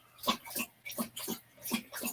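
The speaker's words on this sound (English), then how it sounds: "There's a dog that sounds really thirsty" A thirsty dog drinks eagerly, making about six rhythmic, close slurping laps in quick, even succession.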